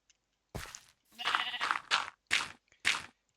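Sheep bleat in a Minecraft sheep farm, four or five short nasal bleats close by, separated by brief silences.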